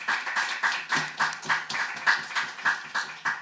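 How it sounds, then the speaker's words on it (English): A small group applauds with steady, evenly spaced claps, fairly close and clear, with no talking over it, in a government committee meeting. "we got applause from both sides of the aisle"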